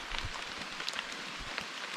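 Steady light rain falls on a small beach spot in the Guyanese jungle, a dense, even patter with soft scattered drops, continuous and close throughout.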